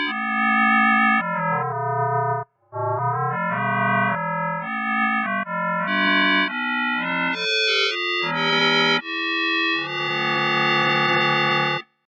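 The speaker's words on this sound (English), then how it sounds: "Now we're getting some of these frog/toad tones." FM-synthesized electronic tones in Surge XT warble and croak in a string of short, metallic, inharmonic frog-like notes, shifting pitch steadily with brief pauses between phrases.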